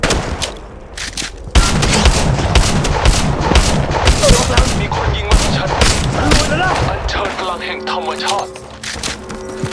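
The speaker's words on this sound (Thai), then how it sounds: "มีคนยิงมาที่ฉัน" Heavy gunfire in the Apex Legends Mobile shooter, with rapid bursts and loud cracking shots packed together for several seconds, then tapering off into game tones and ambience; a voice speaks in the game over the shooting.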